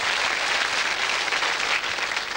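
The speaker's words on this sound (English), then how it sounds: "Let's give them an encouraging round of applause." A studio audience on the 1996 game show Going For Gold applauds the contestants, a continuous, even wash of clapping with no break, moderately loud and slightly distant.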